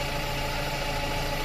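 A cold Toyota EE100 car engine runs with a steady, close, continuous hum and a rough edge, with no talking over it.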